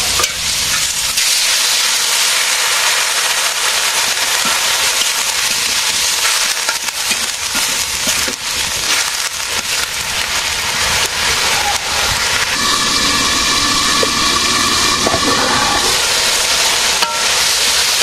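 A vegetable curry with brinjal is sautéed in a pan, giving a loud, constant sizzling hiss with some scraping. A faint tonal hum joins in toward the end.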